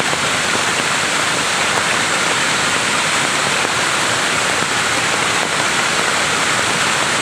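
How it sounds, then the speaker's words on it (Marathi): Rain falling in a village, a dense steady wash of hissing patter, loud and unbroken throughout with no voices. "पाऊस पडतो"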